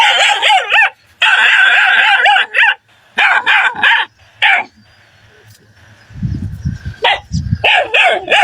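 A small dog yaps in quick, high-pitched bursts, then pauses while a low rumbling noise rises before the yapping starts again.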